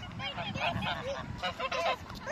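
A group of ducks calls nearby in a quick run of overlapping honking quacks, busy and fairly loud throughout the short stretch, with no talk over them.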